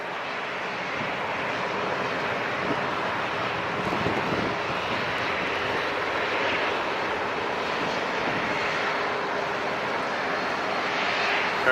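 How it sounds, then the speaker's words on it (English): Aircraft engine roaring steadily and loud throughout as a plane comes in to land at San Diego International Airport, a continuous broadband jet roar with no talk. "Here goes our next landing."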